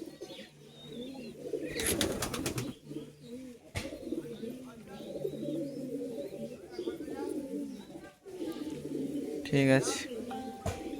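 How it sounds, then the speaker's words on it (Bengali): Adult high-flying pigeons coo softly and steadily in a loft, with brief bursts of wing flutter and someone talking nearby. "এটাও ধাড়ি পায়রা"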